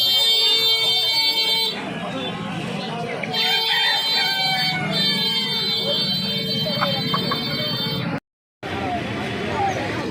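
Several native desi chickens clucking and a rooster crowing amid a noisy poultry market in Uluberia, with people talking and a constant electronic whine over everything.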